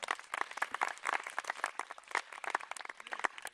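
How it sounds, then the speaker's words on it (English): An audience claps steadily, a dense patter of many hands applauding at moderate volume from a little distance. "Round of applause, everyone."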